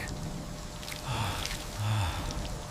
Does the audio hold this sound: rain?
yes